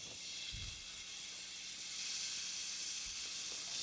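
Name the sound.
ground veal, beef and Italian sausage browning in olive oil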